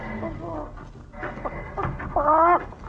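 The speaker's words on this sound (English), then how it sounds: "She's doing practically all the things a chicken can do." A chicken in a radio drama clucks and squawks repeatedly, fairly close, with a sharper rising cackle near the end, blended with other farmyard-like sound effects.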